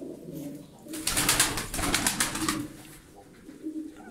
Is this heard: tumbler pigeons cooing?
yes